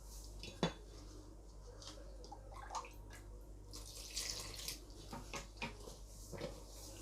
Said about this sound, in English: So I'm gonna start my mixing now.